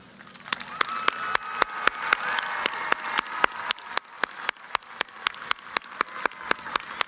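Audience at a Hutto ISD high school graduation ceremony applauding honor graduates, broad crowd clapping in a large hall with a loud regular rhythmic beat of sharp clap-like hits running through it.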